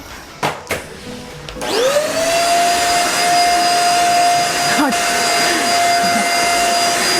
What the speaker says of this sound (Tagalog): Thank you, Lance, sa vacuum. Nagagamit na namin siya.